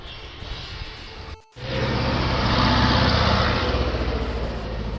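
A small tractor engine runs steadily, cutting out briefly before revving back up and droning on loudly.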